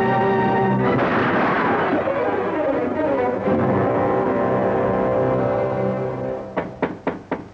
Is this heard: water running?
no